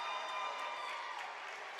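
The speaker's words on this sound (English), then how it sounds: "as you can hear the applause in the background from fans from both schools" Fans from both schools applaud at a girls' varsity basketball game between Fulton and Pearl City, a soft, distant wash of clapping that stays even throughout.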